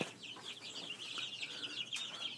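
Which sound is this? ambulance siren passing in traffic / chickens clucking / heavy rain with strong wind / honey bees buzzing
chickens clucking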